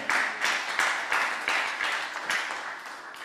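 A church congregation claps together during a French-language service, loud sharp hand claps in a steady rhythm of roughly three per second, with room echo behind them.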